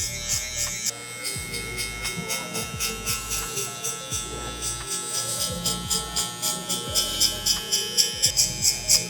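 Electric hair clippers fitted with a 3 guard buzz steadily while cutting spiky hair in a barbershop, the motor pulsing in a regular rhythm as the blade passes through the hair, close and continuous.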